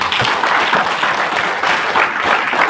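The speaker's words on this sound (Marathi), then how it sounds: "टाळ्या वाजवा." An audience at a business lifestyle talk gives dense, continuous applause, with many hands clapping at once, loud and close throughout.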